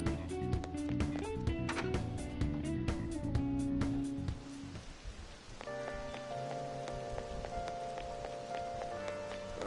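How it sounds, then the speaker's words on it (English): Steady rain patters and hisses in Persona 5 Royal over layered game music and chimes, the rain-like texture continuing as the music shifts partway through. "When's the rain gonna let up?"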